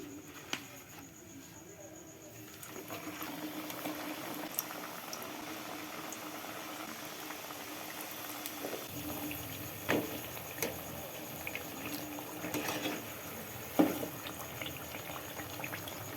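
Khaja pastries deep-frying in hot oil, a soft steady bubbling hiss that rises after a quieter start, with occasional faint clinks and pops throughout.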